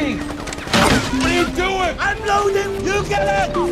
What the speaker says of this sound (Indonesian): kelompok itu langsung menembakkan banyak peluru yang membuat keduanya terpojok